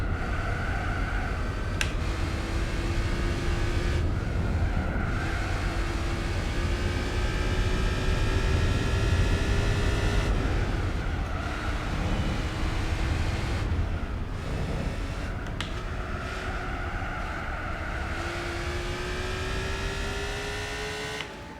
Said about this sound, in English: This car actually has quite cool sound.